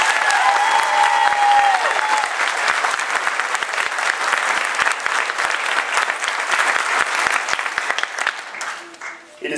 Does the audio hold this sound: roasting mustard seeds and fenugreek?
no